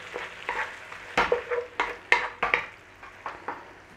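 Beef and mushroom in black bean sauce gets stirred in a pan, a run of loud, close scraping strokes at an uneven rhythm with brief clinks of utensil on metal over a soft sizzle.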